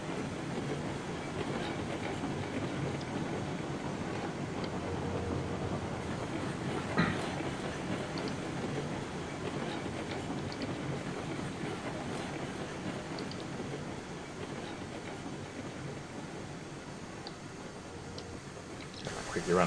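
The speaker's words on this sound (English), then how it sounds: "Nice long train." A long freight train rolls steadily along rails in the railroad simulation game Railroads Online, with a continuous rumble and rhythmic clickety-clack of wheels over joints, close and sustained for about twenty seconds.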